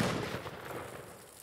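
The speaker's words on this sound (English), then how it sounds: "so I shot it again," A single sharp rifle shot fired at sodium metal, with a booming decay that fades over about a second.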